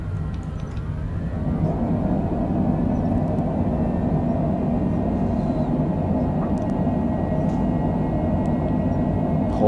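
A fixed-wing aircraft rolling down a runway on landing with reverse thrust engaged, a steady loud broadband engine roar and rumble that holds for the entire stretch.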